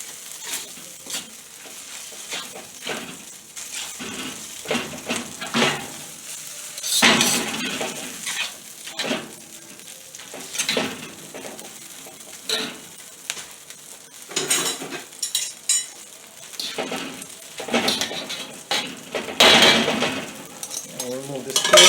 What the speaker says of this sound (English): I'm going to add a little more oil. And add a little more oil to it. So I can get it into that stir fry mode.